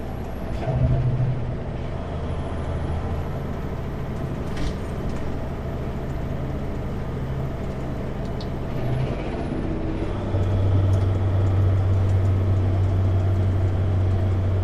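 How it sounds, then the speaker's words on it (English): A semi truck descends a hill with engine brakes on, a steady low droning rumble heard from inside the cab for the whole stretch, shifting pitch partway through and growing slightly louder near the end. "Do need those engine brakes on though."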